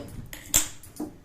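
A gas stove is lit for frying banana stem vada, giving a single sharp close click with a faint soft follow-up, otherwise quiet.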